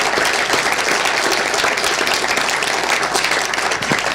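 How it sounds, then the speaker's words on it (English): A conference audience at a supply-chain technology presentation claps steadily, a dense, even wash of applause filling the whole few seconds. "A big round of applause."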